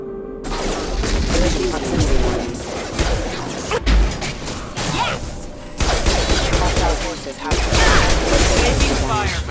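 Gunfire in a shootout with security robots in the video game Mass Effect 2, with loud sustained bursts of shots, crashes and impacts layered over game music and effects.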